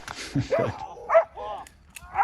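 A police dog on a patrol and SWAT training exercise barks several times in short, close bursts with yips between them, while people talk nearby.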